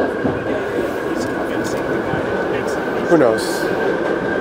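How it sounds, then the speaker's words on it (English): Train rumbling past on rails with a continuous heavy roar and faint wheel squeal, while people talk briefly over it. "The train coming back this way?"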